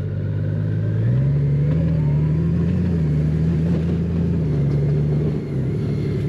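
A motorcycle with a reverse gear backs up slowly in a tight space, its engine giving a steady close mid-pitched drone that rises slightly and holds for several seconds before easing off.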